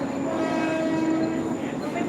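An AC local train rolls past in Mumbai with a steady, loud rumble and a high whine, the sound continuous and close throughout.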